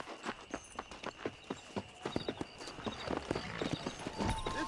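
A horse ridden in Red Dead Redemption, hooves clip-clopping in a steady, even trotting rhythm, fairly close and clear over soft ambient outdoor noise.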